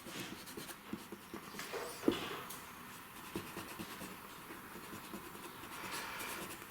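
An eraser rubbing over a live-model drawing makes soft, continuous scratchy strokes with a few small taps, quiet and close.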